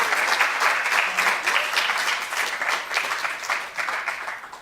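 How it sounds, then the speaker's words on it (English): A warm round of applause from an audience welcoming an alumni speaker, steady, full clapping that carries on throughout with little else. "So if we can give a warm round of applause"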